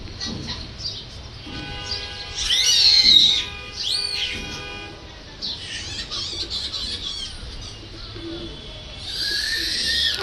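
Domestic pigeons, among them a Bombay pigeon, coo in a loose series of soft calls near a village coop, with quieter stretches between the calls.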